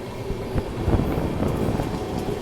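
A passenger train rolls past at an Indian railway station, its wheels clattering in an irregular rhythm with soft thumps over rail joints, close and moderately loud, with no speech.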